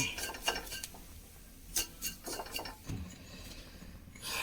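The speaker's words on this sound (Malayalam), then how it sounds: "ഇത് വേറൊരു പാത്രത്തിലേക്ക് മാറ്റാം." Roasted coconut mix being scraped and shifted from a pan into another vessel, with a series of scattered metallic scrapes and clinks from utensils, moderately close, and no talking.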